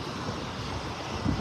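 Steady wind and ocean surf on a beach in North Naples, Florida, a continuous broadband rush with a faint low thump near the end, no voices.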